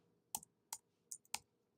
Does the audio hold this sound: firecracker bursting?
no